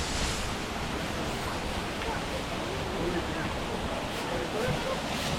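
Rushing water at the sticky waterfalls in Chiang Mai, a steady broadband roar of falling water close by with spray, continuous and loud throughout, with faint wind buffeting the microphone.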